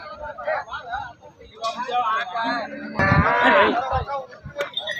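Jersey cattle low and moo repeatedly amid a busy cattle market crowd in Kushtagi, with people talking nearby over the animal calls.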